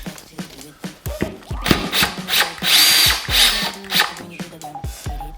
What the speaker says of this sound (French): on dévisse la vis